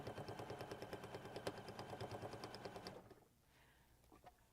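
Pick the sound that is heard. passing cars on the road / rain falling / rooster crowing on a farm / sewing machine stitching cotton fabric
sewing machine stitching cotton fabric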